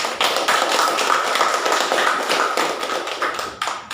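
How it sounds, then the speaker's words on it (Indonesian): Classroom applause, a dense burst of many hands clapping close and loud for a few seconds before tapering off. "Ya, kita kasih aplaus."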